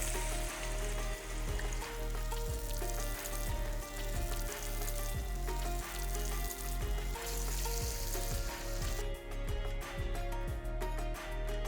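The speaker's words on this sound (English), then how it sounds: "you'll have a delicious mixture of falafel that's ready to be fried" Falafel mixture frying in hot oil, a steady close sizzle and crackle with faint stirring taps throughout, no talking.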